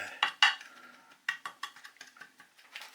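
A utensil stirring a flour and chili flake mixture for coating sardines, a few crisp scraping strokes then a rapid series of lighter clicking scrapes against a bowl, close and quiet.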